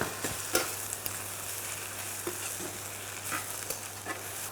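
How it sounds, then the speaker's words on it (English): Spinach sizzling and frying in a pan with mushrooms and shallots, seasoned with salt and pepper, a steady close hiss broken by a few soft stirring scrapes and taps, with no talking. "Now I add in some spinach"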